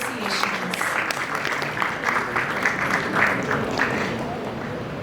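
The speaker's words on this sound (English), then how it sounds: "A huge round of applause for all our associations" Audience applause at a startup competition ceremony, a dense, steady wash of many hands clapping at moderate volume, with faint voices mixed beneath.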